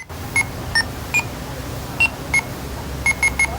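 A series of short electronic beeps from an intercom panel, single and in quick clusters, sounding in a quiet room with a low hum beneath.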